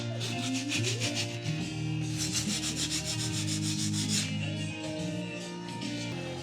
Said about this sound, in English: Sanding done.